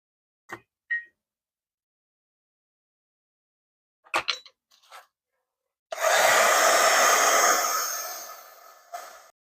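A hair dryer blows on a freshly painted journal title plate in one steady burst of about three seconds, loud and close, then tapers off. Brief breaths and small handling noises come before it.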